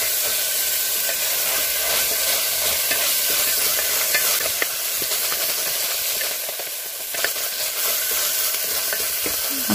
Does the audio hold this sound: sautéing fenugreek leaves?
yes